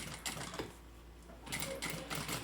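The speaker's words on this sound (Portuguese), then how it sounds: "E aqui a gente vai fazer uma costura aqui" A sewing machine stitches a binder cover with a continuous whirring, rapid needle patter, briefly easing off in the middle before resuming, up close with no talking.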